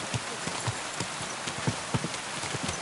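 Horse hooves clip-clop at a steady walking rhythm, about a dozen soft hoofbeats spaced regularly, moderately close and fairly quiet over a faint rainy background hiss.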